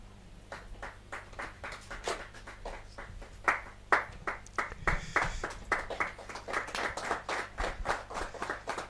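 Rhythmic unison clapping from an audience at a Hindi poetry gathering starts moderately and grows louder and denser, a steady beat of many hands over a low background hum.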